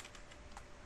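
Quick keystrokes on a computer keyboard, a short close burst of light clicks at even pace with no voices.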